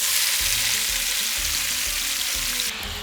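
Datterini cherry tomatoes hit a hot pan for pasta allo scarpariello and sizzle loudly and steadily, with a continuous hiss of frying and a few soft stirring bumps.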